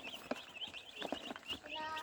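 Domestic free-range chickens raised on a small home farm cluck in short, close bursts through the clip, with a faint voice or other sounds in between.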